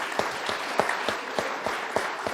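A television studio audience at an Italian sports program applauding, steady brisk clapping from a small crowd, fairly close and continuous without voices.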